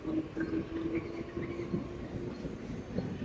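A slow local train rolls through a railway station, a low steady rumble of wheels with a thin metallic squeal running above it.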